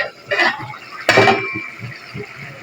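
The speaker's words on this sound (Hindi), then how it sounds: "अब हम ढक्कन खोल के देखते हैं।" A lid comes off a cooking pot of tinda curry with gravy, making two brief close clinks about half a second apart over a quiet kitchen background.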